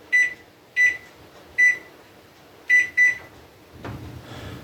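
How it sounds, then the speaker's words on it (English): A microwave oven cooking garden beets on its normal heat cycle gives five short, bright electronic beeps at uneven intervals, then a low hum starts as it begins running. "Now this is just on the normal cycle heat that the microwave just has."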